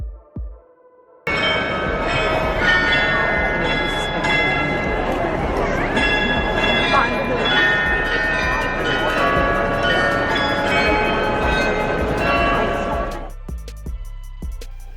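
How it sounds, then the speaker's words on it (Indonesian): Loud, continuous ringing of many glockenspiel bells in a clock tower in Germany, with bright overlapping tones, sustained for several seconds in a busy open space before fading out. "The Glockenspiel."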